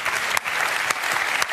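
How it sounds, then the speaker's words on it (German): Studio audience at a German sports television show clapping steadily, a dense, continuous wash of applause with a few sharper claps standing out, close and loud with no talk. "Wir also klatschen."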